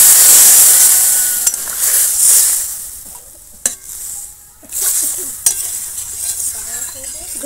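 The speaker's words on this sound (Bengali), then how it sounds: "অল্প একটু জল দিয়ে দিলাম, দিয়ে ভালো করে সব একটু কষিয়ে নিচ্ছি।" Fish curry spices being stir-fried in a pan with a splash of water, a loud close sizzle with scraping stirs and a few sharp clanks of a spatula against the pan, with no talking.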